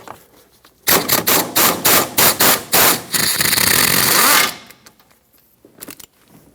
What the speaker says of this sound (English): Let's break this free and remove it.